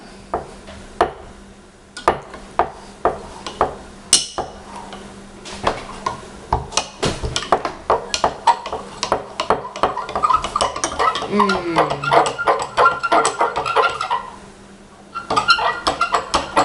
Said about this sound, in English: we can start to stir it up